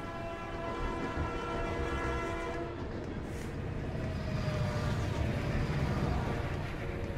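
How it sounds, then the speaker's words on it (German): Trains rolling past in a video game, a steady dense rumble with sustained horn-like tonal bands throughout, loud and continuous for several seconds. "wie viele Züge kommen denn jetzt, sag mal?"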